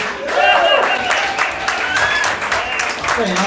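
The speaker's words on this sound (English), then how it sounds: "big round of applause and welcome to the stage, Jason Wood!" A pub comedy crowd at a hotel comedy final applauds as the MC is brought on stage, a full burst of clapping with cheers and voices shouting over it, loud and close.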